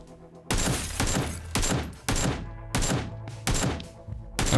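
AKM assault rifle fire in the video game PUBG Lite, loud bursts of rapid shots in about five separate strings, each ending in a ringing tail, with no talking.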